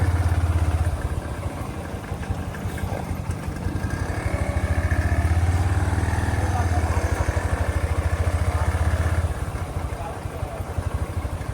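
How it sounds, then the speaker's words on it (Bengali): A motorcycle engine drones steadily up close while riding along a rough path through a maize field, its mid-pitched rumble rising and easing slightly with throttle throughout. "ভুট্টা খাতের মাঝখান দিয়ে যাওয়া লাগতেছে মোটরসাইকেল"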